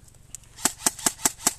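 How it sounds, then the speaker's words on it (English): Airsoft gun fired through a chronograph at an airsoft site, five sharp evenly spaced cracks in quick succession, close and crisp over a low background hum. "We're going to go chrono the weapons to see what power they're at"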